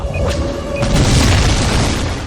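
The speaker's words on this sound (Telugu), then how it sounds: "కరెక్ట్ గా 9:25 కి స్టేజ్ కింద మనం పెట్టిన బాంబ్ బ్లాస్ట్ అవుతుంది." Bomb blast under a stage in a Telugu action movie scene, a loud sustained deep boom with rumbling debris that fills the whole moment, no talk.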